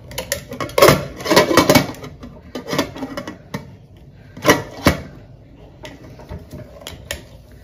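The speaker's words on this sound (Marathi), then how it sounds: "कुकरचं टोपण घालून घ्यायचं शिट्टी काढून" A pressure cooker lid fitted on with its whistle removed, several sharp metallic clanks and scrapes in clusters, close and loud, with no talk.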